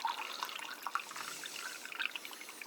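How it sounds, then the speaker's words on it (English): Water poured into a closed container to make dark Nestea lemon iced tea, a soft, steady trickling and splashing heard close and fairly quiet, with no talk. "you pour in the water"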